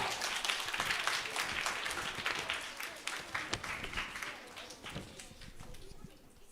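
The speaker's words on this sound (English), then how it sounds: "Give him a clap, give him a clap." Audience applause at a junior school maths challenge in Nairobi: a dense, steady burst of clapping from a sizeable crowd that thins slightly toward the end, with a few voices mixed in.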